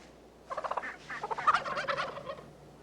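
A wild turkey gobbles once in a rapid, rattling burst of throaty notes lasting about two seconds, fairly close and clear against a quiet outdoor background.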